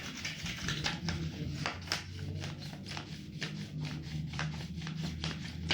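A mica plastic sheet rubbed by hand in repeated quick strokes, giving a steady dry scratchy friction sound at close range with no talk.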